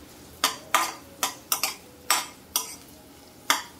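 Onion with a little salt cooking in a pan, stirred with a utensil: about eight sharp scrapes and clacks at an irregular pace over a faint sizzle, close and fairly quiet.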